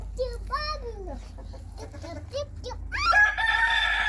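A rooster crows loudly, with chickens clucking around it and a voice chattering in between.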